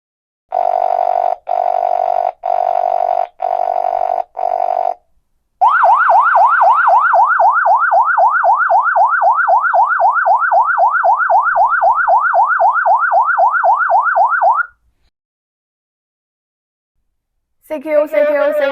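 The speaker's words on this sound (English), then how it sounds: "the radio will trigger the emergency alarm" Ailunce H1 handheld radio emergency alarm: five short loud electronic beeps, then a long rapidly warbling siren tone lasting about nine seconds, a pause, and another burst beginning at the end.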